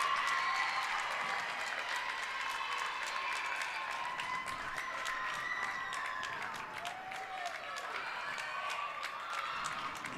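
Crowd at a girls' high school basketball game between East Syracuse-Minoa and Jamesville-DeWitt applauds and cheers after a three-pointer, a steady wash of clapping and cheers, with faint voices calling out above it.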